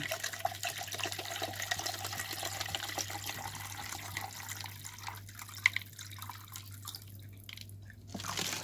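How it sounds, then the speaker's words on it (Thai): Cold water poured into a cooking pot while making butterfly pea tepache, a soft steady trickle with scattered drips and splashes, faint and close, swelling slightly at the end. "เทน้ำเย็นลงไปเลย"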